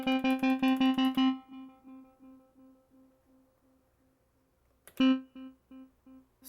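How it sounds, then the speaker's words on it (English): A synth plays repeated notes with long reverb, while the decay and high-pass filter open together under a Launch Control knob. A fast burst of notes fades into long echoing repeats, then a second burst rings out alone. "so when I turn it, it's gonna open the decay and the high pass filter together"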